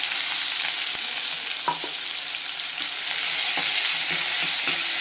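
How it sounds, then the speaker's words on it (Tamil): Steady sizzling of onions, cumin, fennel and dried chilies frying in a pan, a continuous hiss with faint scraping and stirring clicks now and then, close up, no voices. "எல்லாம் நல்லா வதங்கட்டும்."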